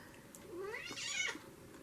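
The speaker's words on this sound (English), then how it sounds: "The squeaky cat wants to come up." A cat gives a single drawn-out, rising meow with a squeaky, whiny tone, close but fairly quiet, in an otherwise still room.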